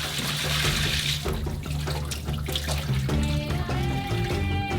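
Water is poured out of a pot of cooked potatoes, splashing and pouring steadily, a continuous liquid rush with some clattering near the end.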